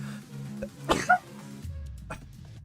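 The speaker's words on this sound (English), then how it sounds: "Sorry, excuse me, I sneezed." A single sharp sneeze bursts out, followed quickly by a second short burst, standing out against a quiet background with a faint steady hum.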